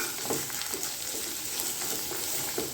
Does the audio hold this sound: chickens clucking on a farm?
no